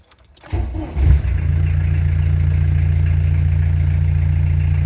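A VW Golf 3 TD diesel with its turbo removed cranks briefly and catches, then settles into a loud, steady, rumbling idle, with no talk.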